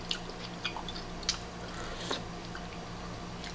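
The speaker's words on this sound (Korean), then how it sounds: "대창도 지금 먹어보니까 맛깔스럽네" Close, soft chewing of tender beef intestine (daechang) from a hotpot, with a few moist squishy bites over a steady low background hum.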